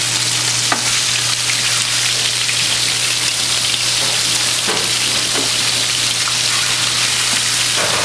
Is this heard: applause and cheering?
no